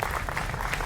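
A brief burst of audience applause in a TV political debate studio, steady and moderately loud throughout a short fragment under a faint musical hum.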